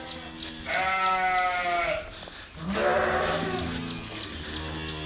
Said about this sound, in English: You can see these are the sheep